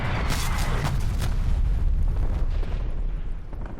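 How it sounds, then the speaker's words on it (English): Artillery strike in Call of Duty pounding nearby as loud, rumbling explosions overlap into a continuous heavy roar with sharp cracks early on, slowly easing toward the end. "Artillery inbound."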